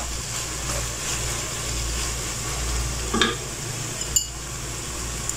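Chopped tomatoes sizzle in a hot pan for a potato and minced meat curry, a steady frying hiss with a couple of brief scraping stirs of the spoon partway through.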